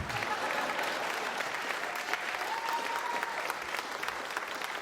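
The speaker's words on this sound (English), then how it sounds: "Now you are allowed to clap." A concert audience at a show in Seattle claps, a continuous wash of applause from a large crowd, heard from within the room at moderate level with a few sharper nearby claps.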